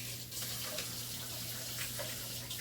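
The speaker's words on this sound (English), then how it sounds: "I'm going to wash my hands again." Kitchen tap running steadily while hands are washed, a soft continuous hiss of flowing water with faint splashing, fairly quiet and without talking.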